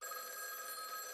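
A telephone rings in a video game, a steady electronic bell tone sounding continuously and fairly loud, with no talking over it.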